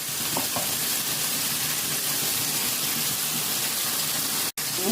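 Spices with tomato, turmeric and chili sizzle steadily in a pan with added water, a close, continuous frying hiss with a few scrapes of stirring near the start.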